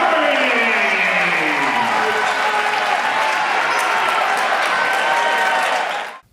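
Loud arena applause and cheering from a basketball crowd after a Wildcats alley-oop, a dense steady roar with an announcer speaking over it before it cuts off abruptly.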